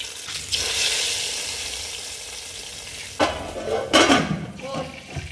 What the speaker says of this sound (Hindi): अब इसको ज़रा लगाना है तड़का शड़का ताकि जरा सोना कलर